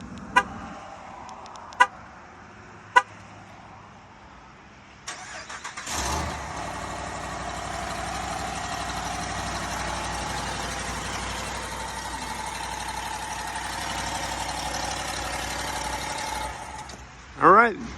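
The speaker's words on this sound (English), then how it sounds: "there's your cold start on the HEMI. It's running." A 2020 Ram Laramie pickup's 5.7-liter HEMI V8 with 140K miles cold starting, a sharp crank and catch into a steady idle that drones on for over ten seconds, preceded by a few clicks and followed by a short voice at the end.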